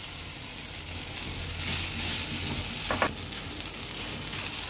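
Poha being tossed with red chilli in a hot pan, a soft continuous sizzle and hiss with one brief scrape of the spoon near the middle.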